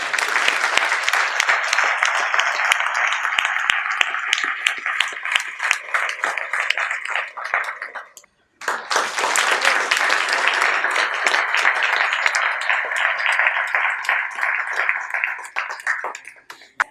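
Steady, loud audience applause fills an award ceremony hall, breaking off briefly in the middle, then resuming just as strongly before tapering at the end.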